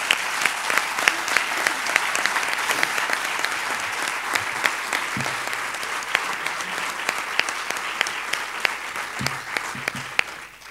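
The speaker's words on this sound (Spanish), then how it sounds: "Un fuerte aplauso para todos ellos." Loud, dense applause from an audience at a community association event, steady and sustained for about ten seconds with a few faint voices mixed in.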